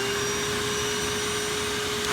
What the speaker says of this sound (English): With the blade and vacuum running, you cannot ignore the noise.